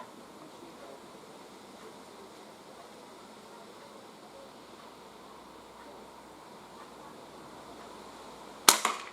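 A Crosman 2240 CO2 pistol fires one sharp, loud shot outdoors near the end, after a stretch of steady wind and ambient hiss.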